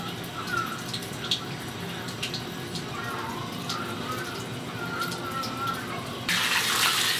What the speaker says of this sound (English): rinsing his face off with all the soap that's on it